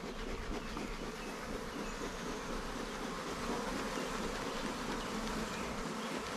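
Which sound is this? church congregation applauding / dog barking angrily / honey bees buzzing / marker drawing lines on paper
honey bees buzzing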